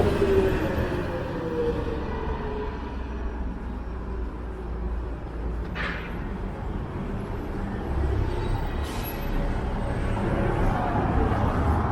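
Vancouver SkyTrain rapid transit running downtown, a steady low rumble and rolling drone with faint high squeals, heard from the street amid city background noise.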